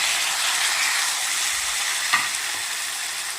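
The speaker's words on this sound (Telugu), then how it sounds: "ఉల్లిపాయలు చక్కగా ఎర్రగా వేసాక దానిలోకి బీరకాయ ముక్కలు" Onions and ridge gourd pieces fry in a pan with a dense, continuous close sizzle, steady and loud, broken only by a faint stir or tap near the end.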